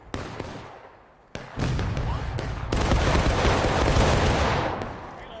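Black-powder muskets in a War of Rights Gettysburg battle fire in scattered shots and then break into a loud, sustained volley of overlapping cracks that rolls on for several seconds.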